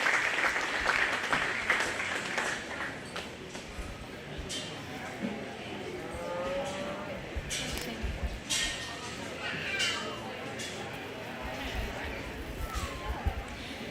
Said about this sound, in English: Let's give these 2 a big round of applause.